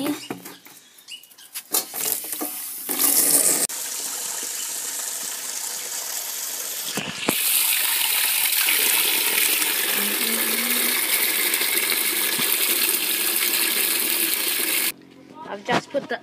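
Water runs hard from a tap into a bucket being filled for an ice bucket challenge, a steady loud gushing rush that swells midway, with brief clattering and handling noises at the start and end.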